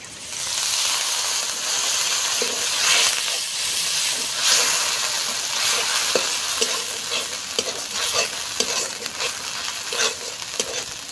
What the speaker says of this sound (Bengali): এবার দিয়ে দেবো মশলা ধোয়া জল